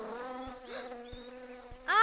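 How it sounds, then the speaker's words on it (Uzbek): A cartoon bee buzzes with a steady, close drone of tonal, harmonic wingbeat hum, with a few soft thumps and a brief sharper burst at the end. "Ari bor ekan"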